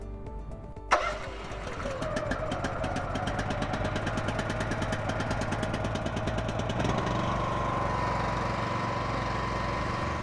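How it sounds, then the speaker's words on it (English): A small pony motor on the gooseneck of a heavy haul trailer cranks briefly, fires and settles into a steady, close, loud running drone that keeps going to the end without talk. "To start the pony motor, turn the choke on, make sure that valve is open and turn the ignition key to the right. The motor will start."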